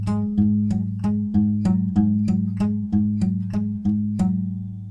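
Fingerpicked acoustic guitar with the open 6th string as the bass note plays a fingerpicking pattern, an even repeating stream of plucked notes over a ringing low bass, close, clean and without voices.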